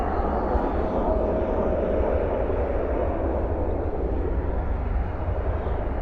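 A jet airliner at DFW airport at night produces a continuous low, broad engine roar that holds steady throughout, heard from some distance with no clear voices.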